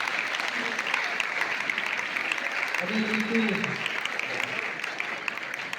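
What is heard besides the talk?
applause from students and audience at ceremony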